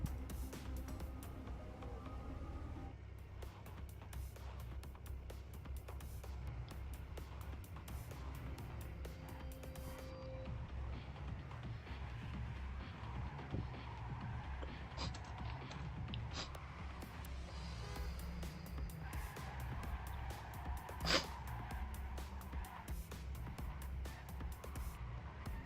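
A car races through Trackmania Canyon, its engine droning steadily for the whole stretch as it revs and shifts, with scattered clicks and a sharp knock near the end and no voices.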